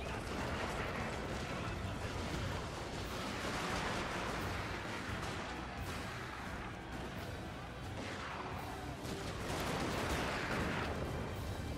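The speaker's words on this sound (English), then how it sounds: "we got carbine cavalry firing into Yari Samurai, who have a bit of cover from the trees" Carbine cavalry fire into Yari Samurai sheltered by trees in the strategy game Total War: Shogun 2, a dense, continuous crackle of distant musket volleys that swells and fades in waves and never stops.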